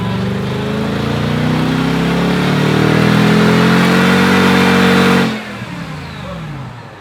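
A Mercedes SL55 AMG engine roars at high revs on a dyno, climbing steadily in a loud sustained whine, then abruptly cuts off and drops to a low rumble.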